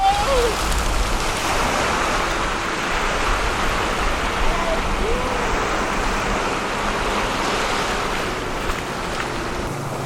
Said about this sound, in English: you found a little splash place. Listen to it fall.